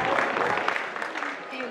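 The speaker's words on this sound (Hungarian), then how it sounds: "Most Attilát még egyszer tapsoljuk meg" A panel audience at an anime convention round-table gives a short burst of steady applause, close and fairly loud, with a voice faintly talking alongside.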